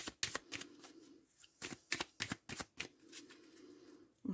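A deck of cards is cut and shuffled close up, giving crisp riffling bursts and sharp flicks in quick irregular clusters with short pauses between them.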